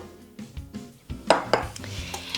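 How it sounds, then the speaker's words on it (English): Flour and cocoa powder mixture tipped into a mixing bowl, a few clinks and scrapes of bowl and utensil against each other, close and fairly quiet. "So I'm going to add half of the flour cocoa powder mixture."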